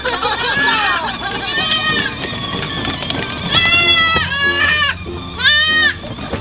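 Goats riding in the cargo bed of a truck bleat repeatedly, several loud wavering cries overlapping, while people chatter nearby.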